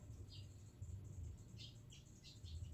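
Birds chirp outside a house with short, faint high tweets scattered over steady low background rumble, no voices present.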